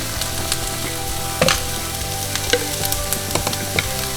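Onions, peppers and garlic sizzling steadily in a frying pan, with a continuous crackling hiss and occasional louder pops and stirring clicks, close and without talk.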